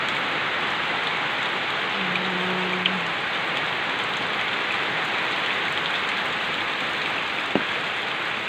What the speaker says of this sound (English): it's raining, raining, raining